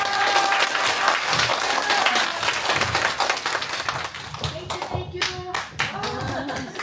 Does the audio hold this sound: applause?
yes